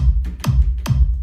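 Two cleaned kick drum hits, EQ'd in FL Studio's Edison with the top and unneeded low end cut, each a punchy thump with a short downward-sweeping tail, evenly spaced and isolated.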